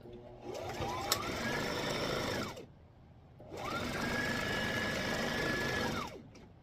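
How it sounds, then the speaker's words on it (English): A sewing machine stitches a straight seam on a small fabric organizer in two sustained runs, each whirring up, holding a steady hum, then winding down, with a short quiet pause between them. "I will just stitch down the line starting at the seam of the piece that I previously sewed"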